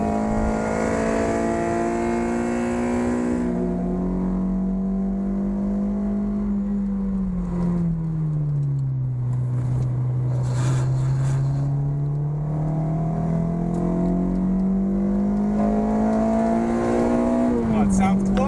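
From inside a 2ZZ-GE powered Toyota MR2 at the Nurburgring, the four-cylinder engine holds a loud, sustained drone that dips as revs fall, then climbs again under constant road and wind roar.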